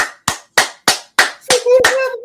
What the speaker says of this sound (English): the clapping sounds